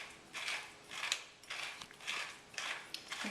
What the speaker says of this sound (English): This is the Aromatico from GEFU. It's really a nice grinder